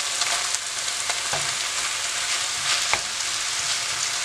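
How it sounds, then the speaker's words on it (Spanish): Ground meat frying in a pan with onion and garlic for chiles en nogada, a dense steady sizzle broken by soft scraping and stirring taps as it is broken up. "Le vamos a mover muy bien y vamos a tratar de deshacer bien la carne."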